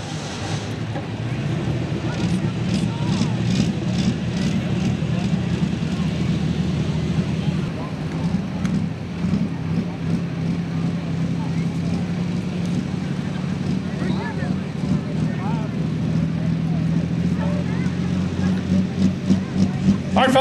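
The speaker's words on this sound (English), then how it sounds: "diesel powered allis, chalmers, orange and dangerous" A diesel Allis-Chalmers tractor at a super stock tractor pull in Ardmore, Tennessee roars steadily with a deep, rumbling drone that holds loud and close throughout, with faint voices mixed in.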